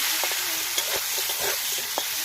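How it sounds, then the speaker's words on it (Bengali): Potatoes frying in a pan with turmeric, stirred with a few scrapes and knocks over a steady broadband sizzle, close and fairly loud, no voices. "আলুগুলিকে আমরা হালকা করে একটু ভেজে নেব।"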